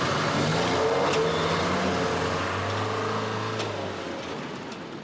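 Two vans are driven away from a road toward an industrial estate, heard as a continuous revving engine roar with road noise that slowly fades as they move off.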